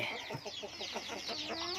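Backyard-breed laying hens cluck in a steady run of short, close calls, with a few sharper squawks mixed in against a busy farmyard background.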